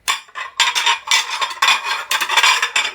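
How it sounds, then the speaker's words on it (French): Plates, glasses and cutlery clink and rattle as someone gathers dishes, with continuous bright clattering and scraping bursts, close and loud, without voices. "tu fais plus de bruit que moi avec la vaisselle"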